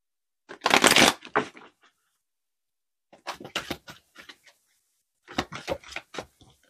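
Oracle cards are shuffled by hand in three separate bursts. Each burst is a quick, crisp flurry of riffling and slapping, with short silent pauses between them and no speech.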